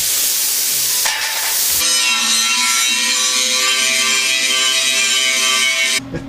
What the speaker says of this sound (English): I say we go with the plasma cutter